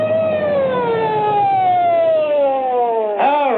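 A police prowl car's wailing siren sweeps steadily downward in pitch, loud and close, then abruptly rises again near the end, with no voices over it.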